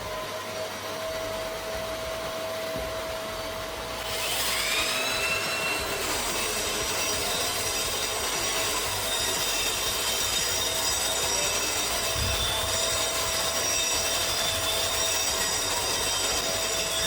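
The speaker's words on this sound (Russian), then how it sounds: "Моя аккумуляторная болгарка с этой работой еле справлялась, постоянно перегревалась." A cordless angle grinder, straining and prone to overheating, grinds concrete on a staircase. A continuous loud whine swells up after a few seconds and holds steady and close, with no talking.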